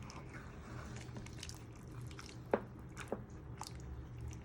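Gammon pieces being stirred in a pan for pea and ham soup give soft wet squelches and scrapes, with a few sharper clicks, quiet and without talk.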